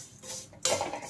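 Fried flattened rice (poha) with raisins stirred in a pan: a short burst of metal spoon scraping and clinking against the pan, close and fairly loud, with a sharper clatter near the middle.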